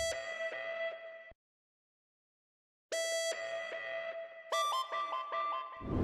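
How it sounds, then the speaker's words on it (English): A bright synth lead made in Serum within FL Studio plays a melodic phrase, cuts to silence for about a second and a half, then returns with rising stepped notes and a slight glitchy stutter, loud and alone. "because I made a different serum lead right here, and it sounds like this."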